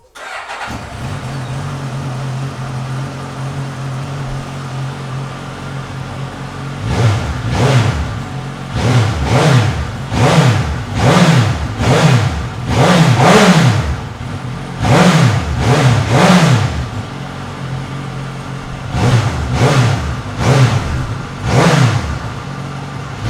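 A Suzuki GSX-S1000 motorcycle starts and idles steadily, then gets revved in repeated bursts, each rising and falling sharply, loud and close with short idle gaps between the revs.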